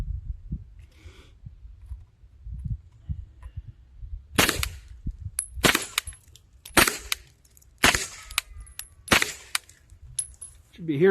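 Gunshots from a Scorpion firearm fed by a homemade magazine with a 20-round spring, six sharp loud reports fired at uneven intervals outdoors, each cracking and echoing off wood and rocks.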